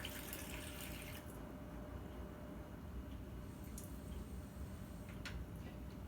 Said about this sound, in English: I'm just going to fill the rest up with water, and you can just use tap water